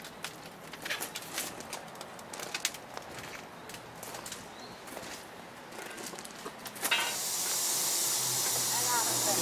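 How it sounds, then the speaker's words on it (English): Scattered noises and faint voices give way to a loud, continuous hiss of escaping steam from a 1915 Baldwin 0-6-2T sugar cane steam locomotive that holds steady to the end. "We got real steam now."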